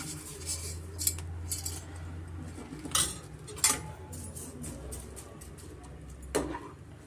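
Fried vermicelli going into boiling milk in a pot, heard as scattered metallic clinks and scrapes of a utensil against the pot over a low simmering hum, with a few sharper taps near the end.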